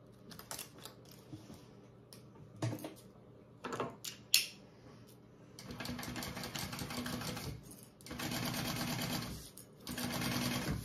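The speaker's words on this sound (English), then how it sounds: "Now you can sew this at your full seam allowance up here." A domestic sewing machine stitches a zipper seam at full seam allowance on a Sewfisticated Be Hip bag, running in several bursts of steady whirring with short pauses and small handling clicks between them.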